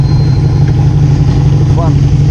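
A Holden Torana car idles at five o'clock on a Sunday morning, a steady, low, close rumble with faint background noise and no voices.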